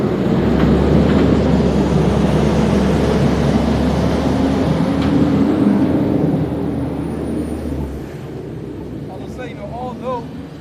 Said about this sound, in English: even though this truck passed